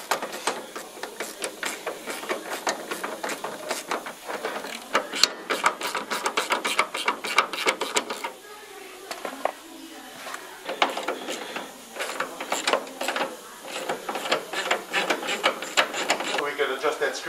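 Rapid ratchet clicks come from close by as a screw is adjusted during rear independent suspension installation on a 1993 Mustang notchback with a Coyote engine swap, in repeated bursts with a short pause midway.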